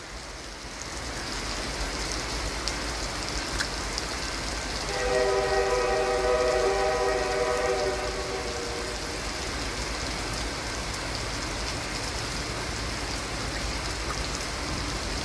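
A southbound freight train rolls past in pouring rain at Folkston, Georgia, its steady rumble layered over hissing rainfall, with a long horn blast sounding midway from a moderate distance.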